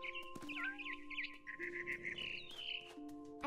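A mother bird in What Remains of Edith Finch chirps in a quick series of bright, close tweets and short trills, set against a faint steady hum.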